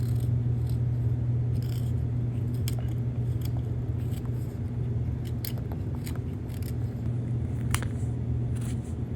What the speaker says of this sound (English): I apply my stop cut and then I just start making my cuts toward that